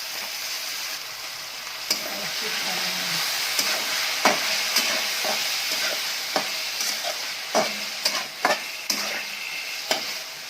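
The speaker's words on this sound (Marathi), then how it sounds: "कोबी टाकून घ्यायचा आहे आपण." Shredded cabbage stir-fries in a hot pan for chicken noodles, a steady loud sizzle with repeated scraping knocks of a spatula against the pan throughout, no voices.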